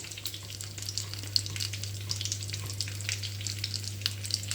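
Liver sizzles steadily in a hot frying pan, with crackling pops and spits over a constant low hum.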